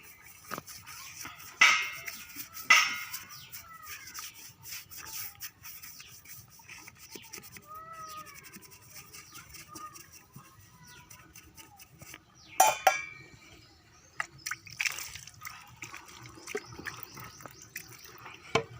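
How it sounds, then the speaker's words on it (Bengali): A stain is scrubbed with Harpic toilet cleaner, soft scattered rubbing and scraping strokes with a few sharper brush scrapes and occasional watery splashes, faint and close, with no talk. "এরকম ঘষে দিয়ে জল দিয়ে দিলেই হবে"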